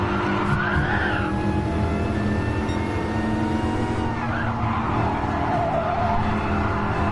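Race cars in a racing video game collide and skid, with sustained engine roar and screeching tires throughout, loud and close, a Porsche bumping the rear of the player's car.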